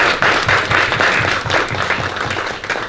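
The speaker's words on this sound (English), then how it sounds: "Give her a round of applause." Audience applause at a talk about support and job opportunities for young adults: loud, dense clapping from a crowd that fills the whole stretch without letting up, with no talking over it.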